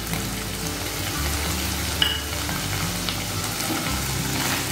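Ginger and green chili paste fries in a pan for a Bengali rui fish curry with fennel, giving a steady close sizzle with a faint clink partway through and no talk.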